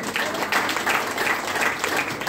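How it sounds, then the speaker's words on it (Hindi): Audience at an indoor health seminar clapping steadily in dense, continuous applause for about two seconds, fairly close and sustained without pause, with a voice faintly mixed in underneath. "आप लोग सबके लिए एक बार अपने आप के लिए जोरदार ताली हो जाए।"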